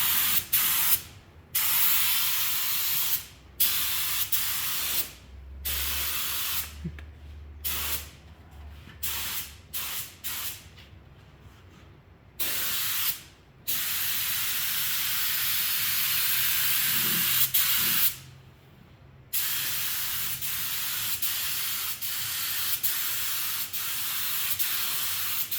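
A paint spray gun hisses out primer, base coat and clear coat in repeated bursts, steady loud spraying interrupted by short gaps as the trigger is released.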